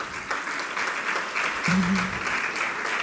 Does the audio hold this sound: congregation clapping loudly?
yes